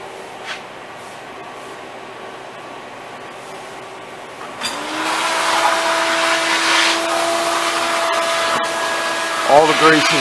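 A loud industrial vacuum sucks grease out of kitchen exhaust hood troughs, kicking in midway as a steady roaring whoosh with a constant motor tone, preceded by quieter room noise and a faint hum.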